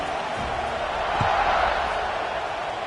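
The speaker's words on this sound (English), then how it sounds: "this crowd is buzzing after that last score." A football stadium crowd buzzes after a touchdown, a steady, fairly loud wash of distant murmuring voices and cheering with faint thumps mixed in.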